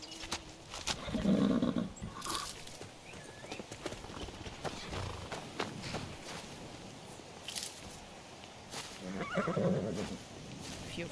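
A horse in Skyrim neighs and whinnies twice, near the start and again near the end, while hooves clip-clop steadily on the ground between and beneath the calls.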